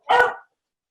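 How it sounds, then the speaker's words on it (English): A dog gives one short, loud, close bark and then falls silent. "It made the dog get excited"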